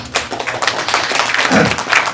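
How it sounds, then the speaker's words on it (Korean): An audience claps at a lecture and book-signing event, with a dense burst of applause that is fairly loud and continuous for a couple of seconds. "큰 박수 부탁드립니다"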